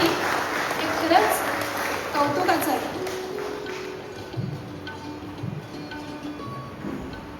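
An audience claps at the Devrshi Narad Puraskar 2025 award ceremony in Konkan. A burst of applause is loudest at the start and fades under a speaker's voice, with scattered claps and noise continuing.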